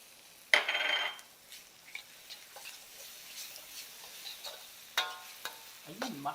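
Black beans sizzling softly in a frying pan while a utensil scrapes and stirs them, with scattered clinks and taps against the pan; quiet overall, with no voices.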